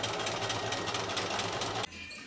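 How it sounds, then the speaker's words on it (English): A sewing machine top stitches around a dress, running in one steady, loud mechanical hum with a fast needle rhythm, then stopping abruptly near the end and leaving a quieter room. "I'm just going to do like a top stitch all the way around."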